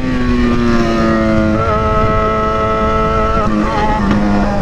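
Yamaha XJ6 motorcycle running flat out toward top speed, its loud sustained engine drone shifting pitch as the revs change, with wind noise throughout.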